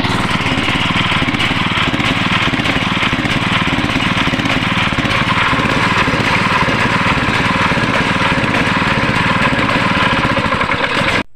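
A gasoline water pump engine with a carburetor problem runs close and loud in a continuous drone, then cuts off abruptly at the very end.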